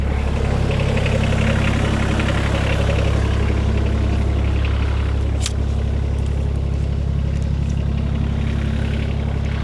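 A Kioti CS2530 compact tractor engine idles at low RPM, parked and in neutral, with a loud, steady, even rumble close by and one brief sharp knock partway through.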